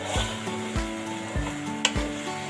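Cinnamon sticks fry in oil in a pan while qeema with shimla mirch is being cooked, giving a steady sizzle broken by several soft, regular stirring or scraping strokes, close and fairly quiet.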